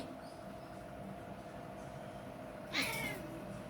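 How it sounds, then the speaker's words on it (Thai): A cat calls out with a single sharp, loud meow near the end, over a steady low background hum. "เอ๊ะ แมวเขาเรียกเป็นอะไรแม่แม่"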